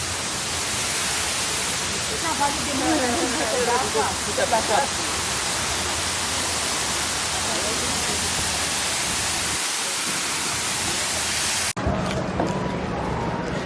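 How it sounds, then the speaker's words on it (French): Loud, steady roar of a waterfall near Nice fills the whole stretch, a dense rushing hiss that shifts in tone near the end. "La cascade, ça mouille."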